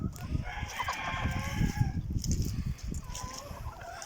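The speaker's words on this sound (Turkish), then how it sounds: "Haydi tavuklarımızı salalım şimdi." Hens cluck and a rooster crows nearby as the coop is opened, a busy mix of farmyard fowl calls carrying on steadily with no talking.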